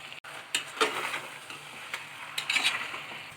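Chicken is sautéed in biryani masala with salt, and a spoon scrapes and stirs it in a pot. There are a few distinct stirring scrapes and clinks over a soft, low sizzle, close up, with no voices.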